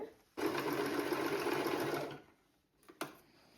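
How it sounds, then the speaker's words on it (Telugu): A sewing machine stitches a child's blouse in one steady whirring run of about two seconds, followed by a couple of short clicks and a brief burst. "మా పాప కోసం అయితే డ్రెస్ కుడుతున్నాను."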